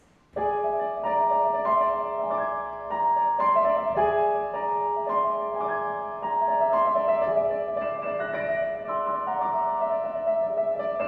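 Piano with both hands together: rapid repeating notes under a sustained melody, steady and moderately soft, no voices.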